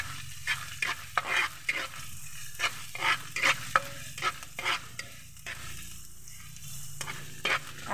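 Chopped ginger sautéing in a frying pan, a soft steady sizzle broken by repeated close scraping and stirring strokes in an uneven rhythm, with no voices.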